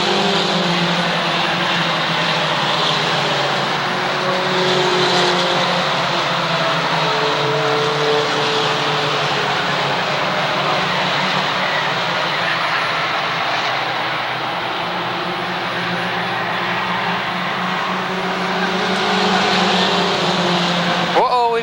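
Mini stock cars, Mustangs and a Chevrolet Camaro, racing at Waterford Speedbowl: a continuous roar of engines that swells and fades as cars pass, with a race announcer talking over it throughout.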